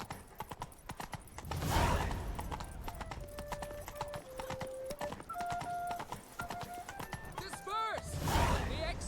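Roach the horse trots in The Witcher 3: Blood and Wine, a steady fairly close clip-clop of hooves under quiet voices and soft melodic notes, with a short whinny near the end.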